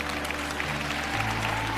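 A lecture audience applauds in a brief, dense burst of steady clapping that lasts under two seconds.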